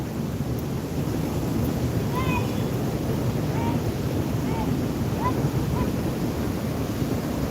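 Steady, heavy roar of the American Falls at Niagara Falls on an overcast day, a dense continuous wash of falling water close by, with a few faint high bird calls drifting over it.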